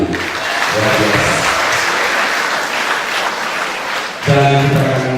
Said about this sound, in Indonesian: Yang masih generasi muda boleh tepuk tangan.